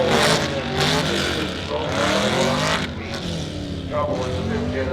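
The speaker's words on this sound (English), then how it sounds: "there goes the green, here comes the Camaro on the right." Camaro SS race car launching at a drag race, a loud engine roar and revving with a car passing, under an announcer's talk over the track.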